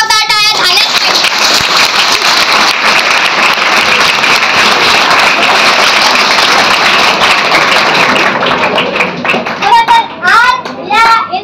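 An audience applauds loudly and steadily at a public event marking Savitribai Phule's birth anniversary, close and sustained clapping that fades near the end as a few voices emerge.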